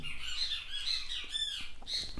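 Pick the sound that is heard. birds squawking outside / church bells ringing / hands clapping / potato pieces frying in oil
birds squawking outside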